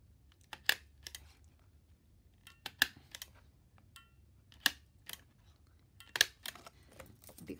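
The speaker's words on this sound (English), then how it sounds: "I am now going to use my Tim Holtz mini attacher" A Tim Holtz mini attacher staples paper up close, with several sharp clacks spaced out over a quiet background and small rustles of the paper between them.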